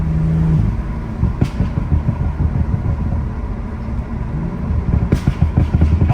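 A tuned BMW 440i Gran Coupe engine pulls hard after a downshift, loud close rumble with crackling pops and a sharp burst near the end.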